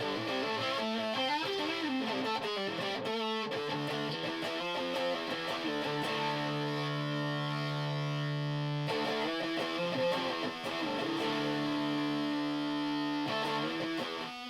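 A distorted electric guitar through an octave fuzz pedal, with a thick fuzz tone and a doubled lower octave beneath it, playing chords and sustained notes with no talking.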